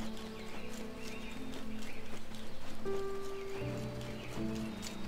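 Horse hooves clip-clop steadily in the Black Desert video game, a continuous mid-level trot beneath ambient music tones with no talking.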